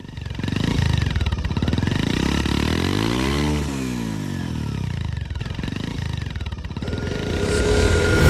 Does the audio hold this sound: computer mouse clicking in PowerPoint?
no